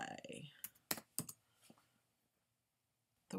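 A few quick keyboard taps click out in a short burst on a computer keyboard, close and quiet, after a brief voice at the start, then silence.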